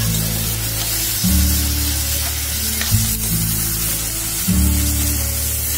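Dried shrimp (sukat) sizzles loudly with reddened onion in a Malvani-style curry base, a dense spitting hiss broken by three sudden bursts as more goes into the hot pan.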